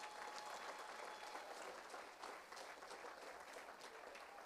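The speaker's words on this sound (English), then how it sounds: "I want to give God a big hand clap for that again." An audience at a school awards ceremony gives sustained applause, dense and even clapping from a large crowd filling the room for several seconds, fairly quiet overall, with no speech.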